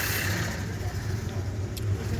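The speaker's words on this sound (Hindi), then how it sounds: "ये गाड़ी वाला पीछे को बैक कर रहा है" A car slowly backs up on a mountain road near Khairna in Uttarakhand, its engine a low, steady hum under broad road and wind noise, moderately close and continuous.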